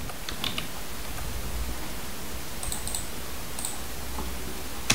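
Typing on a computer keyboard while entering a command in RStudio, with light scattered key clicks over a steady background hiss, no voices present.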